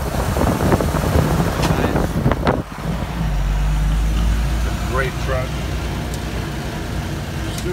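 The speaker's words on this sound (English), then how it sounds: "All right, we do a quick little drive. It's a 1971 FJ40." A 1971 Toyota FJ40 with its original inline six and three-speed transmission drives along, engine droning loudly and rising with a gear change, close and rough, while someone talks over it at the start.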